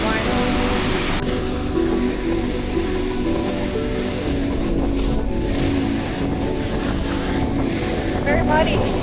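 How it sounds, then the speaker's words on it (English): Wind gusts beside a waterfall in Puerto Rico rush continuously and loudly against the microphone, with a steady roar of falling water underneath and brief talk partway through. "it's very windy."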